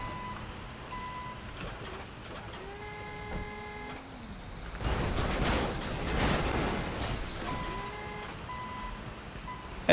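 Backhoe loader reversing in the GTA 5 video game, with steady evenly spaced electronic beeps over a low engine rumble, broken midway by a louder burst of mechanical noise.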